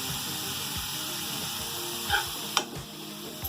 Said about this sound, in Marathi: थोडं परतलं ना, त्याच्यात सगळं दूध टाकायचं.